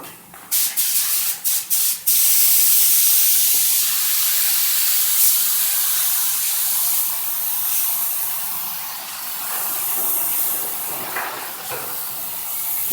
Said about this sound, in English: So Noel's going to come in and spray this Mustang now from adhesion promoter to this glass.